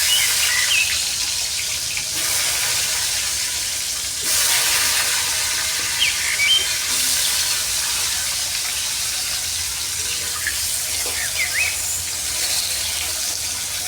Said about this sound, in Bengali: এগুলো ভেজে নিব একটু লাল লাল করে